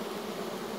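Honeybees from a colony in a Warré hive hum in a dense, steady buzz, close and continuous for under a second, with no talk.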